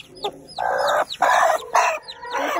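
A hen clucks in repeated, drawn-out bursts close by, with high peeping chicks chirping in between the louder calls.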